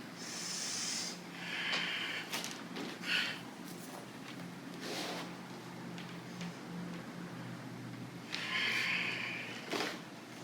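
Slow yoga breathing during a Sun Salutation sequence, with breathy inhales and exhales rising and falling in a steady cycle, close and fairly soft with no talking.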